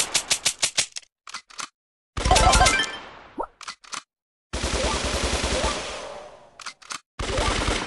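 Gunfire from Colt's guns in the mobile game Brawl Stars, heard as loud bursts of rapid shots and crackling volleys broken by short silences, with a few quick single pops at the start.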